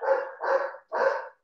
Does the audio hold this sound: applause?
no